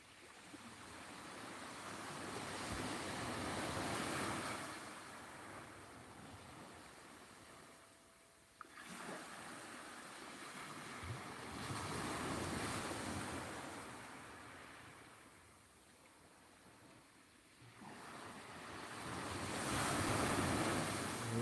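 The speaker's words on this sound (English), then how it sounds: "Lovely listening to the sound of those waves just crashing into the floor there." Waves surge and crash onto a shore in slow repeated swells, each roar rising and fading with wind buffeting the microphone, heard from a beach while fishing for rays.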